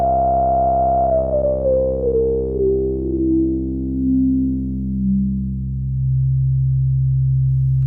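A Minimoog synthesizer's resonant filter sweeps downward through a ladder of harmonics, a smooth steady tone gliding lower over several seconds before settling on a low pitch.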